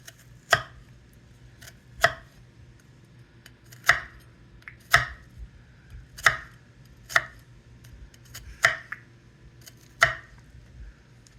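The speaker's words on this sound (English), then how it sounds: "so make little slices this way" A knife slicing ingredients for a homemade bolognese on a cutting board, about nine sharp, separate chops at an unhurried, slightly irregular pace, close and crisp against a quiet background with no talking.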